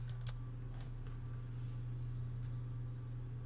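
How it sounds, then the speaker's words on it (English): Inside a Piper Comanche in Microsoft Flight Simulator, the auxiliary fuel pump runs as a quiet, steady low hum and whir, broken by a few faint scattered clicks, with no one talking. "This is just an auxiliary fuel pump actually."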